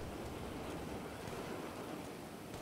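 Steady rain in GTA 5 Online, a dense, even wash of falling drops with no pauses, fairly quiet throughout and no voices over it.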